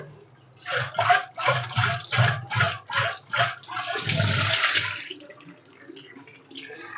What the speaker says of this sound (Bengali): এই যে এরকম করে জল ভরতে হবে, আর যতবার সম্ভব ভালো করে ঝাঁকিয়ে ঝাঁকিয়ে প্রথমে এভাবে ধুয়ে নিতে হবে